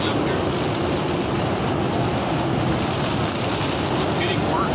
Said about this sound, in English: It's raining, I don't want to get all wet.